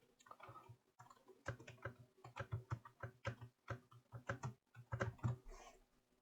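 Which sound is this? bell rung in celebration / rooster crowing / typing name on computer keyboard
typing name on computer keyboard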